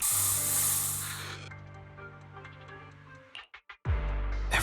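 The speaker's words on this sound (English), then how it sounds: "Here, have a taste of this special bamboo spray." A special bamboo spray in Zenless Zone Zero gives a loud, broad hiss that cuts off after about a second and a half, then faint ticking, brief dropouts and a low rumbling swell at the end.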